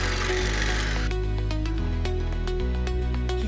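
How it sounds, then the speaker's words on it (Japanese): Small circular saw cutting a wooden post at an angle for a DIY shed, a loud close whining motor with shifting pitch as the blade bites into the wood. "丸ノコは小さくて一度で切断できません"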